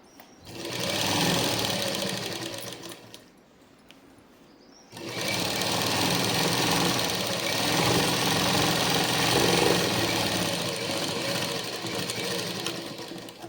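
A sewing machine runs double stitching on a Punjabi dress, a loud close mechanical rattle that runs for a few seconds, pauses briefly, then resumes in a long steady run with no voices.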